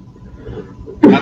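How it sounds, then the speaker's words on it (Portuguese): A man's single harsh cough bursts out loudly near the end after a quiet stretch, close to the microphone during a presentation by a professor who has been ill with fever. "Me perdoem aí a tosse"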